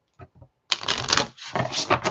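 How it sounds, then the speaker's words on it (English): A couple of soft taps, then a quick, close riffle of a big, wide deck of cards shuffling with a brief pause midway before the rapid fluttering resumes. "So big decks like this that are wide"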